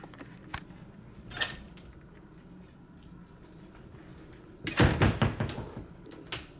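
Closet door in a Ritz-Carlton Half Moon Bay hotel room, a few nearby bumps and a louder rattling slide and thud of the door opening and closing.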